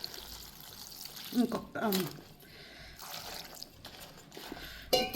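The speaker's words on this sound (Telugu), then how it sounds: "వాటర్ యాడ్ చేస్తాను నేను" Water poured into a pot of buttermilk chillies, a soft trickling splash running beneath steady nearby talk with a brief louder gush near the end.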